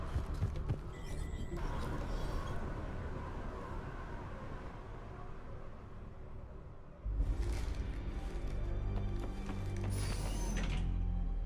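Elevator machinery in Mass Effect 3 grinds and rumbles steadily, with mechanical clanks and ratcheting gear sounds, a heavier low rumble kicking in partway through and continuing loud to the end, with no talk.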